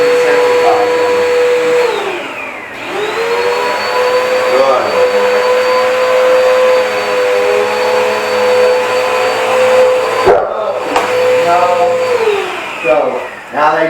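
Vacuum cleaner roaring loudly and steadily close by, with a dog near it, its pitch dipping and recovering as it moves, and brief knocks partway through.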